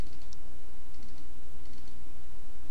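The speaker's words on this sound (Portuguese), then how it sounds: "É só você clicando em próximo." Mouse buttons click sparsely and crisply while stepping through a CMake software installer on a computer, with a faint steady background hum and no talking.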